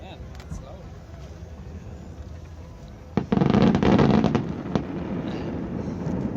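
Fireworks bursting loudly over Vancouver, a sudden barrage of booms and crackles after a quieter stretch, with people talking nearby.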